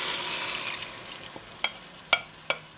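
A pot of Nigerian okra soup with mangala fish, stockfish and meat stock cooking, giving a soft steady simmer, then three sharp clinks of a utensil against the pot near the end, with no talking.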